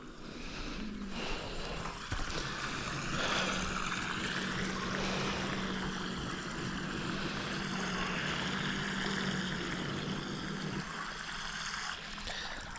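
A Vidapool Orca cordless robotic pool vacuum runs its motor, making a steady, fairly loud whirring and watery rush that holds continuously for the whole stretch.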